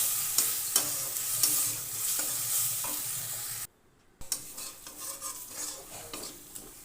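Spice masala cooked with salt and a little sugar for a crab curry is stirred in a sizzling pan, repeated scraping and clattering strokes over a steady frying hiss, a brief silent gap midway, then stirring resumes.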